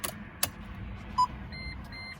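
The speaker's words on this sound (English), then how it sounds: "it beeps at everything" Two short electronic warning beeps, a pair of clear high tones close together, over a quiet low rumble inside a Mercedes C55 AMG.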